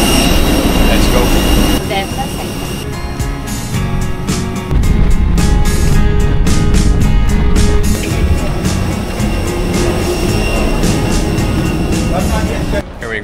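An airliner landing in Manila after a flight from Puerto Princesa, Palawan: loud, sustained jet engine roar and cabin rumble with rattling bursts as it touches down and rolls out.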